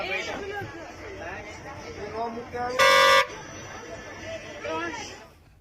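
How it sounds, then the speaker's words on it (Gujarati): A single loud car horn blast cuts through a crowd of excited, chattering voices outdoors. "તે વાહન ચાલક હોર્ન વગાડે છે, બૂમો પણ પાડે છે"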